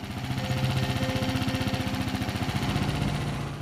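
A motorcycle engine runs steadily while patrolling a forest in the Boundou region, a fast regular pulsing putter, close and continuous with no voices.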